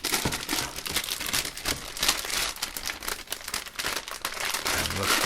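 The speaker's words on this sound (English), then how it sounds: "Gonna go ahead and break this little tape seal." A tape seal on the plastic packaging of a Gigabyte GA-F2A85X-UP4 motherboard box is broken open, giving close, continuous crinkling and crackling of plastic with small tearing bursts.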